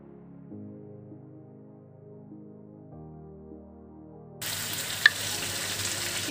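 Background music plays at first, then chicken with ginger-garlic paste starts sizzling loudly in a pan, with a steady frying hiss and a couple of quick utensil clicks.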